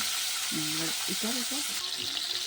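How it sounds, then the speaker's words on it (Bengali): Boneless chicken pieces frying in hot oil for chicken soup, a constant broadband sizzle held close and loud, with a brief whistling tone sounding over it partway through and the hiss brightening near the end. "তেলটা গরম হয়ে গেছে, এবার বোনলেস চিকেনগুলো দিয়ে দেবে, ফ্রাই করে নেবে একটু দিয়ে"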